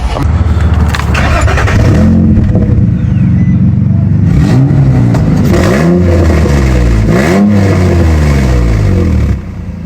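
A loud car engine with an exhaust leak, its rough, raspy, puttering exhaust revving up and down several times close by.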